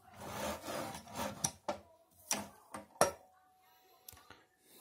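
A Magnusson 800 mm manual tile cutter scoring and snapping wall or floor tile, with a rough scraping pass followed by several sharp clicks and a crisp snap, close and without speech.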